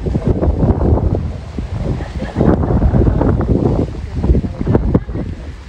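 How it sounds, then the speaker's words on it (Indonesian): Strong wind at night on Mount Telomoyo, roaring and buffeting the microphone in a continuous loud rush with gusty swells, close and unbroken throughout. "ternyata anginnya masih kencang seperti tadi malam"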